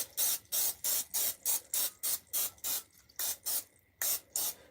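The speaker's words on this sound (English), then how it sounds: "now we got to spray our pan because I don't want it to stick" Cooking spray hisses onto a baking pan in about a dozen short, even bursts at a steady rhythm, close and fairly loud, with brief gaps between each spritz.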